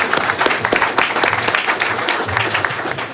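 Audience applause at a faith event, a steady wash of many hands clapping that fills the whole stretch at even loudness with no voices over it.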